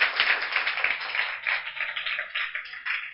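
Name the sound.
children clapping to welcome guests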